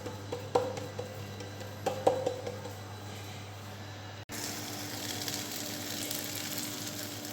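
Butter mixed with a little oil sizzling in a pan while Moroccan msemen flatbread is cooked, a steady soft frying hiss with a few light clicks, then a brighter, louder crackle after a sudden shift.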